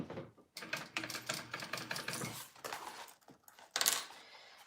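A sewing machine bastes a zipper onto a crossbody bag, running in a quick, rattling mechanical stitch with short pauses, close and fairly quiet.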